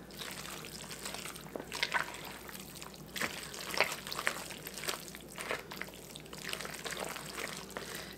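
Milk pours into cornbread batter in quiet trickling splashes spread over several seconds, faint and close with no talking.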